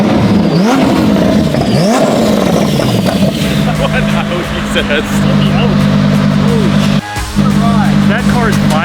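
A Lamborghini engine revs hard up close, with rising and falling swoops of revving that settle into a loud, steady drone. Voices talk over it.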